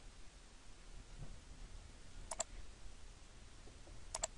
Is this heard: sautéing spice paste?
no